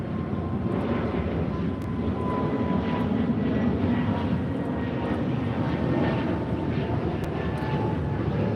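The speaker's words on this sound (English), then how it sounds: "That was Breeze Airways 535 taking off to Richmond, Virginia on an A220-300." A Breeze Airways Airbus A220-300 takes off from LAX toward Richmond, Virginia, a steady, loud engine roar holding evenly throughout with a faint whine on top.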